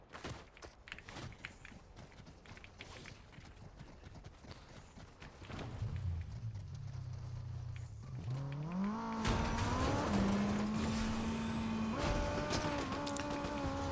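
A car in the Fortnite video game starts up and drives off, its engine tone rising steadily in pitch and holding at a strong, even level after some earlier clattering game sounds.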